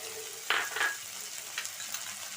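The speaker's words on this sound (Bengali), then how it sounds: "টমাটোটা একটু ভাজা ভাজা হয়ে গেছে এক চামচ আদা বাটা দিয়ে দিচ্ছি" Tomato and ginger paste frying in a pan, a steady close sizzle with two quick stirring scrapes near the start.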